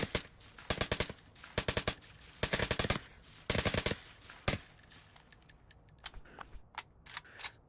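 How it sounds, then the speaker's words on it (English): An AK-12 rifle firing in the VR shooter Onward, first in bursts of rapid automatic fire, then in sharp single semi-automatic shots, loud and close with quick clicks between. "And that's the AK-12 being fired."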